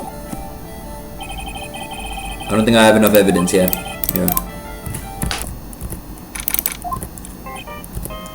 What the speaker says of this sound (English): Mr. Nick, your phone. I don't like the sound of this ringtone right now.